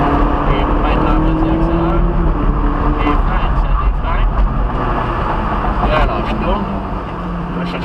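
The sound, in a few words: Ferrari 458 Italia engine accelerating on track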